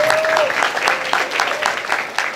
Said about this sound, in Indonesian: Teman-teman boleh kasih tepuk tangan buat teman-teman kelas 12.